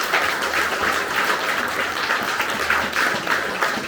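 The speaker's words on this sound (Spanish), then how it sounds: "Fuerte el aplauso al Señor." A church congregation at a Catholic retreat applauds in praise, a dense, continuous roar of many hands clapping at close range, steady and loud throughout with no talk over it.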